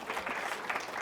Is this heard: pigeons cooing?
no